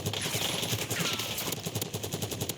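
Rapid automatic gunfire in a Warzone match crackles in quick bursts of closely spaced shots, fairly loud and near, with the rattle continuing across the whole moment.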